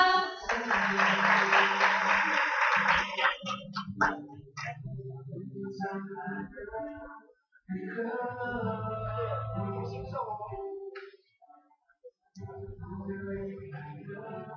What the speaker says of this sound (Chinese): 给自己掌声